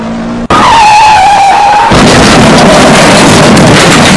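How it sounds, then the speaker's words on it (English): A golf cart crashing into a house: an abrupt, very loud impact followed by a sustained roar of skidding, crunching and tire squeal. A tone fades beneath it before the noise broadens into harsh, continuous debris-like clatter. "how dare you crash my house with my golf cart?"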